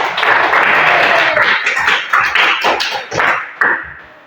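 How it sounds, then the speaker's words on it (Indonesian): Classroom applause in a religious studies lesson: a burst of clapping from students rises quickly, continues loud, then breaks into uneven scattered claps and taps before it fades out. "Beri aplaus untuk kita semua."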